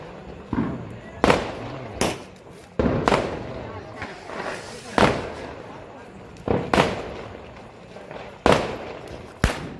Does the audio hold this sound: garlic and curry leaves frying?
no